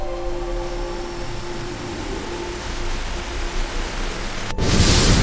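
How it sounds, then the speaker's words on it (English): Steady rain patters on a window in a dense, even hiss, with a low hum underneath and a sudden louder burst of noise near the end. "Rain falls on the window."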